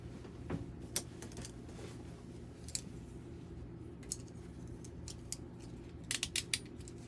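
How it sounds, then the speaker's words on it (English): Scissors trim off a piece of collage paper, giving a few faint, sharp snips scattered over a few seconds in a quiet room, with a small cluster of cuts near the end. "I'm just going to trim that off."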